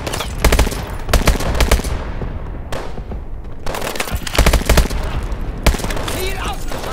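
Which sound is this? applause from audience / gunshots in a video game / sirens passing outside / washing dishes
gunshots in a video game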